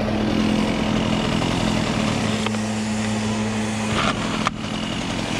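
A Husqvarna small engine runs steadily at close range, its continuous motor drone holding without a break before a brief knock near the end.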